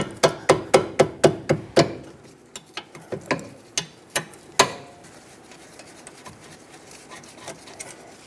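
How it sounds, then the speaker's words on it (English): A 14mm wrench or socket loosens the brake caliper bolts on a 2008–2012 Honda Accord's rear brakes, with a quick run of sharp ratcheting clicks followed by scattered metallic clicks and knocks, close by. "Now use a 14mm wrench or socket. Break these 2 bolts free that hold the caliper onto the bracket."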